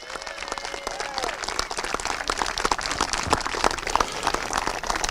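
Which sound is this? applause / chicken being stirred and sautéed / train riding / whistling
applause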